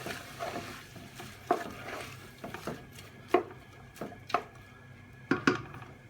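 Lomo Saltado, a Peruvian beef stir fry, is stirred through in a pan: irregular scraping and knocking of a utensil against the metal over a soft background sizzle, close by with no talking.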